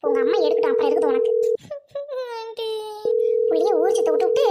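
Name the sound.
phone ringing while waiting for someone to answer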